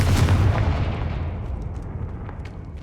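A Confringo fire spell explodes in the Hogwarts Legacy video game: a loud, deep booming blast up close that rolls off into a long, rumbling decay, with no voices.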